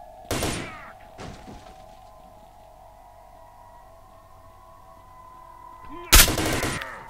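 Sharp gunshots in STALKER: Shadow of Chernobyl: one burst near the start, a second shortly after, then a loud close shot near the end, with a low steady hum between them.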